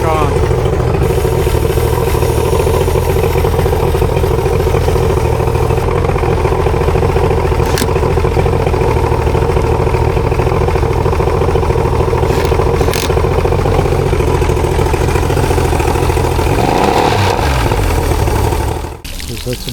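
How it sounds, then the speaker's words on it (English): An older Mercury 90HP outboard motor runs continuously with a loud, steady droning roar and a slight clattering edge, close by, cutting off abruptly at the end; a voice may speak faintly under the engine. "It's an older motor that's now running very nicely"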